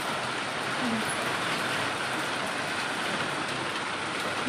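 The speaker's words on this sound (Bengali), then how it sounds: "এই যে বৃষ্টি নেমে গেছে" Heavy rain pours down steadily as a storm darkens the sky, a dense, unbroken hiss that fills the whole stretch without any talk.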